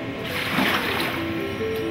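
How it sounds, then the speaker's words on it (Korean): Ocean waves turning rough as a typhoon forms, a continuous close wash of surf and splashing water with a low boat-like rumble, with a voice faintly underneath. "태풍이 발생하면 파도가 거세지기 시작한다."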